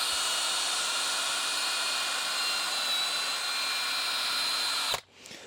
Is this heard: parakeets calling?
no